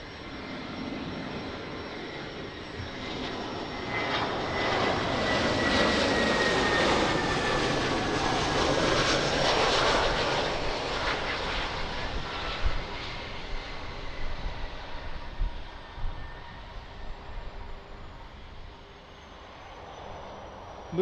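A Bombardier Challenger 350 business jet approaches Lisbon Airport's runway 02, its broad jet roar swelling as it nears and then easing away over about twenty seconds, with no voices.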